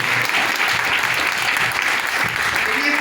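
An audience claps in honour of the women present, a dense, sustained wash of applause from a large crowd, loud and unbroken for the whole stretch.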